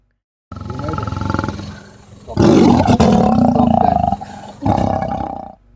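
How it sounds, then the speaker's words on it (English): Deep, rumbling lion-like big-cat roars and clicking growls from layered creature sound design come in three heavy bursts, loud and close, with rough gravelly texture. "it's further enhanced by the clicking big cat growls"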